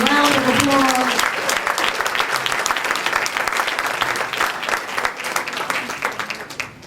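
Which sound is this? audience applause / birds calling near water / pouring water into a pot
audience applause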